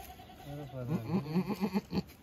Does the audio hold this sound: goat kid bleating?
yes